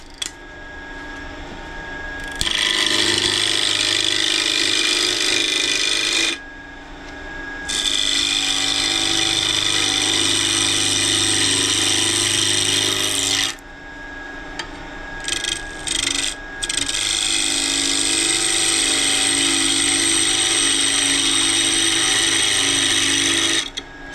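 A wood lathe spinning at just over 1,500 RPM while turning a wooden beverage smoker, with a steady motor whine and harsh rasping tool contact in long passes broken by short pauses.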